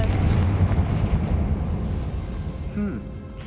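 A Confringo spell fired in a Harley Potnick video game, heard as a loud, rumbling explosive boom that decays slowly, with a voice calling out over it.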